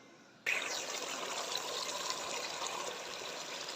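Water pours steadily into a cooking pot of spiced masala for a ginger pakora curry, about five glasses' worth, starting abruptly and gushing on close and loud without pause, no one talking.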